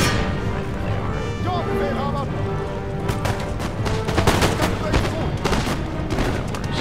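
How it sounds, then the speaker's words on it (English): Massed rifle volleys from line infantry in the strategy game Empire: Total War, a battle in the conquest of America, crackling as dense repeated gunfire over a steady battlefield din, growing heavier in the second half. "Something getting shot at, especially by rifle."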